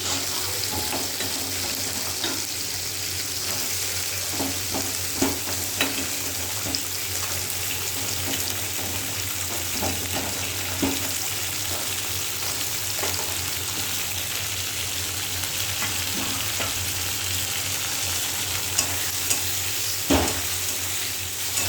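Shelled peas frying in a pan, a steady close sizzle running throughout, broken by scattered clicks and scrapes as they are stirred, with no talking.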